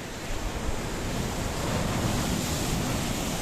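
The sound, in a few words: sea waves on the coast at Paphos, Cyprus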